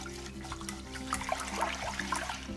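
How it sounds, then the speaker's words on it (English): Water sloshes and swirls in a pot as whole grains are rinsed to remove excess starch, a continuous close watery churning with small splashes and trickles. "I'm actually filling the pot with water and then swirling everything around together"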